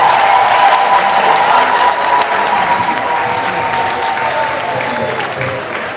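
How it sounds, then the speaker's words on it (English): Loud, full audience applause in a hall during a live celebration event, a thick sustained roar of clapping with some crowd noise, gradually easing slightly toward the end. "I trust you will stand up and give her a resounding ovation."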